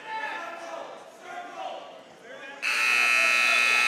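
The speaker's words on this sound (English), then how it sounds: "Errant buzzer" An errant buzzer sounds at a high school wrestling match, coming in loud and steady near the end, after crowd noise and commentary talk.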